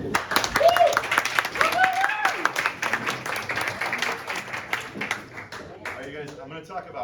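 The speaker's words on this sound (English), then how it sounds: "Sean, big round of applause" Audience at a lightning talk event in Lisbon applauds and cheers for a speaker, lively clapping with whoops that thins out as a voice begins talking over the tail.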